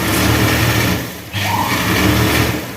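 Sewing machine stitching a chudi seam, a steady close whirring drone that runs continuously, dips briefly in the middle, then resumes at the same even speed.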